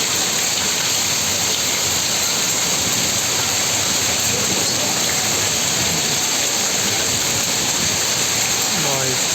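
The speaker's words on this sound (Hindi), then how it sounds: "ये बारिश नहीं छोड़ने वाली भाई।" Heavy monsoon-style rain pours down in a dense, steady roar with no breaks, close and loud throughout, and a faint voice comes through briefly near the end.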